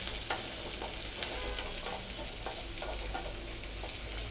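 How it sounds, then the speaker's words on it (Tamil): Small shallots sautéing in oil over a high flame for a bottle gourd and black-eyed pea gravy, a dense, constant close sizzle with faint intermittent stirring taps, no voices. "சின்ன வெங்காயம் வந்து 100 கிராம் எடுத்து வச்சுருக்கோம். இதை வதக்கிக்கலாம்"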